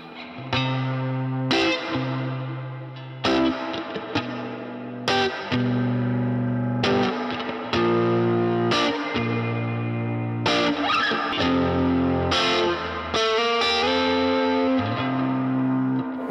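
Electric guitar played through an amp and effects pedalboard, loud distorted chords struck in rhythmic phrases with brief gaps, each ringing out with slight echo and chorus, no voices.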